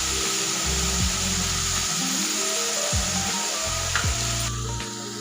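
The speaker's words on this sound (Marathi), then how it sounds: "भाजी आहे शेपूची ती इथं तेलामध्ये अशी टाकून घ्यायची" Dill greens and soaked moong dal frying in oil, a close, continuous sizzle with occasional scraping stirs over the top, steady throughout and then easing slightly near the end.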